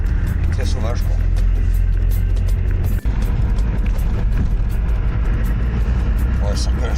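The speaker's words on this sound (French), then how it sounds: "la circulation est compliquée là, hein. Tous ces camions là." Steady low engine rumble of road traffic with trucks on a road in Senegal, heard from inside a moving vehicle, with a brief dropout midway and people speaking over the drone.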